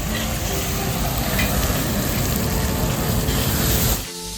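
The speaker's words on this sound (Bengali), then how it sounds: "আদা আর রসুন এখন কষানো চলছে" Ginger and garlic paste sautéing in a hot pan for a rui fish kalia gives a loud, steady sizzle and crackle that runs unbroken, then drops away abruptly just before the end.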